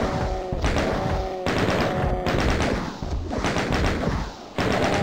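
Rapid bursts of gunfire in the Doom-style shooter, loud and close, fired in several chattering volleys with brief gaps between them, no voices.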